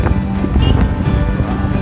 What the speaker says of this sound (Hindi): ये हवा चल रही है।